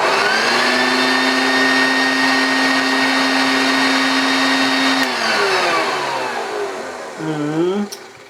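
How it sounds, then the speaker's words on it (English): A Hoover Junior U1036 upright vacuum cleaner runs with a loud, steady motor whine, then winds down near the end with a brief dip and surge in pitch as it slows. "So what I'm going to do is turn it on there, step away,"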